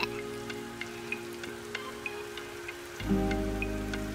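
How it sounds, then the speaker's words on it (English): Rain falls in a game with a kayak nearby, as a steady soft patter with regular distinct droplet ticks over a constant hum, then a louder, fuller wash of sound after a few seconds, with no talking. "And now it's raining."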